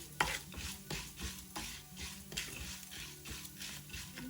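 Half a cup of toor dal dry-roasting in a pan, stirred with a steady rhythm of repeated scraping strokes, close and moderately loud, no voices.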